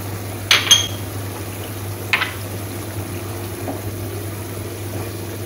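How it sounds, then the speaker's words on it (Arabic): A utensil clinks twice against a pan while liquids and tomato sauce are stirred together, two short close knocks over a quiet steady hum with a faint bubbling hint. "غادي نحرك هاد السوائل هادي باش تذوب الصلصة"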